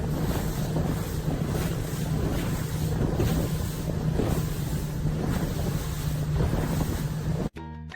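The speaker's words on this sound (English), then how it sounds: "This is what a professional racing sailboat looks like." A professional racing sailboat moves across ocean waves. Strong, steady wind roars across the microphone over the rushing water of the hull for about eight seconds, then the sound cuts off abruptly. No one speaks.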